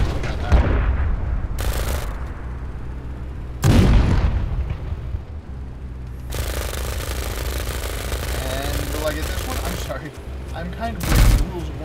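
Explosions and bursts of gunfire from a video game, several loud booms around the 1, 4 and 11 second marks with sustained rumbling blasts between, with a speaking voice underneath.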